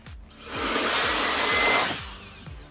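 Compressed air blasts through the speaker grills of a used car's interior during cleaning, a loud steady hiss lasting about two seconds with soft low thumps underneath.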